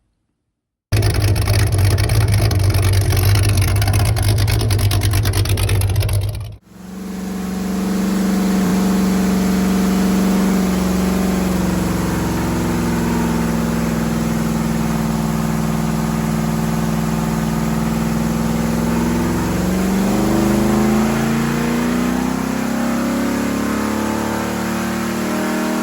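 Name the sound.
355 small-block engine in 1985 Chevrolet C10 on dyno run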